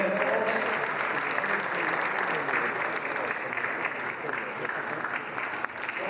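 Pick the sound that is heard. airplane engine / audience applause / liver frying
audience applause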